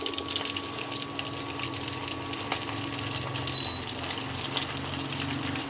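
Chicken 65 deep-frying in hot oil, a close, steady, dense sizzle and bubbling that holds evenly throughout without pause or talk.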